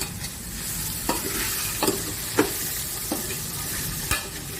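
Vegetables with tender fresh green peas sizzle steadily in a pan while a utensil scrapes through them in a few spaced stirs, close and fairly loud.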